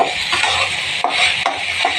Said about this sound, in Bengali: চালগুলোকে একটু ভেজে নিই